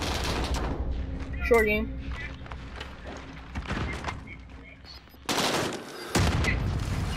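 Scattered shots and bursts of video game gunfire, with a few louder blasts toward the end, mixed with ambient game noise while a person talks over it.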